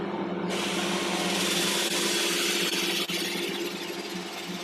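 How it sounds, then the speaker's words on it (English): Wood lathe spinning at slow sanding speed, around 500-600 RPM, with a horse chestnut workpiece, giving a steady broad whirring hum with a faint tonal whine that starts abruptly and runs on evenly, close by. "start the lathe up, speed down to sanding speed, so again 500-600 RPM"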